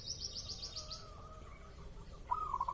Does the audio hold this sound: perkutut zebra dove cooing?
yes